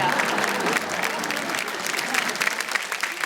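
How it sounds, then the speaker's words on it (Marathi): Loud, dense applause from a studio audience at a Marathi women's game show fills the moment without a break, a broad crowd clatter with no individual voices standing out. "जोरदार टाळ्या होऊन जाऊ दे."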